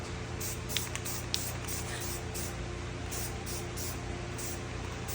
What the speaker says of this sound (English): We're gonna hit it with another coat of Colorshift